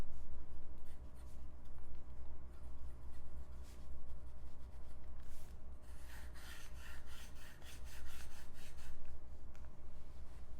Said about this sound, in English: Then we'll use the folded nib here.